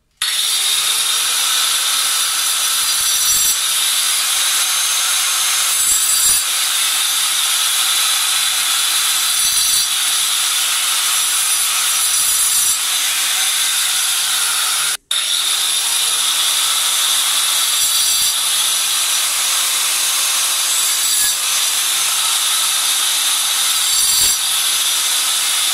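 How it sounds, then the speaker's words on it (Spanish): A power cutter scores marking lines for a washbasin installation, giving a continuous loud high-pitched grinding whine that runs steadily for the whole stretch with only a momentary break midway. "lo primero que vamos a hacer es marcar con una cortadora."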